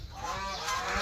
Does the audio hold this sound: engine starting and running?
no